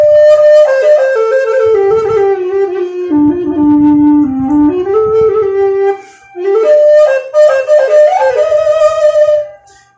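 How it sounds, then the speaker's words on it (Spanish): A wooden-style duct flute with a fipple edge and finger holes plays a sustained melody up close, with clear, breathy tones that step between notes and pause briefly midway. "Ya es un instrumento de viento, se genera el sonido de un bisel, tiene unos agujeros con los cuales yo hago distintas notas."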